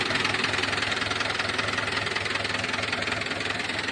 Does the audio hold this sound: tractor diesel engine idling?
yes